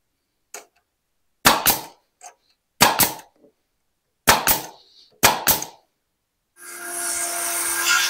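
Nails being hammered into a wooden English field gate: several sharp, close hammer strikes grouped in twos with pauses between, followed by a burst of steady mechanical whirring at the end.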